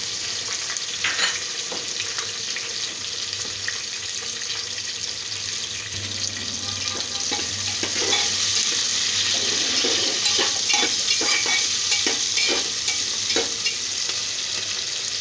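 Whole dried red chilies, bay leaves, whole spices, whole onion and garlic fry lightly in a pressure cooker pot while being stirred, a steady close sizzle with scattered scraping clicks from the stirring utensil and no voices.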